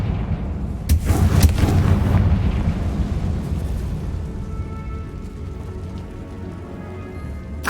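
A Confringo fire spell explodes in the Hogwarts Legacy video game, a loud burst of blasts and crackling booms that fades into a lingering rumble, with no talking.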